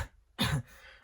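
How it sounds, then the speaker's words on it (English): A single sharp cough bursts out fairly close and loud, brief and harsh, standing alone between quiet stretches with only faint room noise around it. "Oh, some cough."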